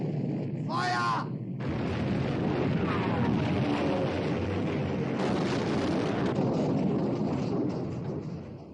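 Battleship guns fire in a World War II naval war-film battle at sea, a heavy, sustained roaring rumble that swells and lingers. A brief raised voice comes just before it.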